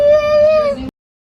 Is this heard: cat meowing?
yes